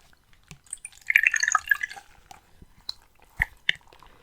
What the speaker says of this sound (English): a washcloth and put it in room temperature water